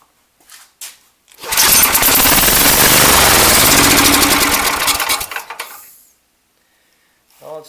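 Small snow blower engine with a freshly cleaned carburetor cranking, catching and running loud and close, a dense rattling roar for several seconds before dying away, with faint knocks before and after.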